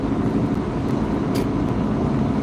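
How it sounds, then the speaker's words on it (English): Road traffic rolls past on an early-morning street, a steady broadband rumble of cars with no distinct single pass-by, fairly constant in level and heard alone without talk. "Good amount of traffic out so early."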